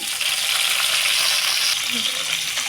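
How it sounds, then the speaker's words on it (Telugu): Green chillies sizzle steadily in a hot tempering of oil with cumin and dried red chilli for a Telugu leafy-greens curry, a loud continuous frying hiss with a brief stir partway through and no talking. "ఇప్పుడు తాలింపు వేగిన తర్వాత పచ్చిమిర్చి వేసుకోండి"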